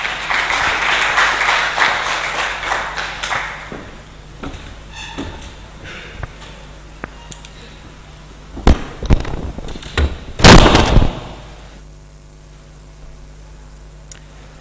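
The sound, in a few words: audience applause at tourism awards gala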